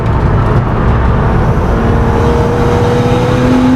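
A 400bhp BMW M135i race car on track gives a loud, continuous engine drone heard from close by, with a steady tone slowly climbing as it pulls through the gear.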